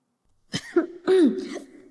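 A couple of short, throaty coughs, close and fairly loud, with a voiced rasp between the bursts.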